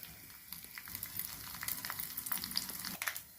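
Mustard seeds, cumin, dals, broken red chillies and asafoetida tempering in hot oil, a soft, steady close sizzle with light crackles and stirring, no talk.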